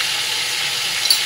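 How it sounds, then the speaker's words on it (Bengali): Chicken seasoned with salt, turmeric and chilli powder fries in a pan, giving a brief, even, close-up sizzle without any voices. "এবার একটু ঢাকা দিয়ে কিছুক্ষণ চিকেনটাকে ভালো করে ভাজা ভাজা করে নেবো।"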